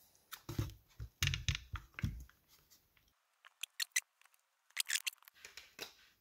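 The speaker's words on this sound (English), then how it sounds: "you can hear that the adhesive is actually just peeling off. It's like cracking a little bit." Adhesive under a Microsoft Surface Pro 4 screen peels away with a string of sharp, close crackles and ticks, in uneven bursts separated by short quiet gaps.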